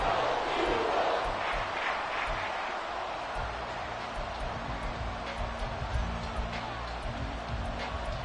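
Stadium crowd roaring steadily at an NFL football game between the Bears and Eagles, a dense sustained wash of noise with scattered shouts and whistles, loud and continuous throughout.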